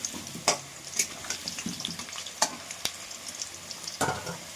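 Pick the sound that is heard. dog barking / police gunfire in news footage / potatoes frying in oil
potatoes frying in oil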